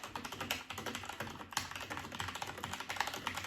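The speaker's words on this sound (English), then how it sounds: "those are those red switches. And they feel mighty fine. And they sound nice too." Fast, even clatter of a mechanical keyboard with red switches, with dense soft keystrokes typed continuously at close range and no voices.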